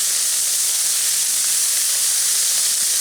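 Six strips of bacon sizzle hard on a hot griddle, a steady, close crackling hiss that fills the clip with no talking.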